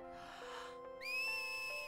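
A character whistles in a Final Fantasy X cutscene: a short, clear, sustained whistle tone that starts partway through, over soft background music.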